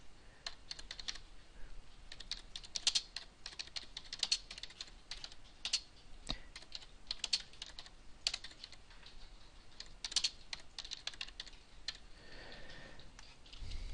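Steady typing on a computer keyboard while text is entered in Revit 2014 drafting software, with rapid, irregular key clicks continuing for the whole stretch, close and moderately quiet, with no talking.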